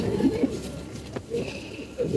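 Pigeons coo in low, muffled rolls at the start and again at the end, with a quieter stretch between, wing shuffling and a voice murmuring in the background.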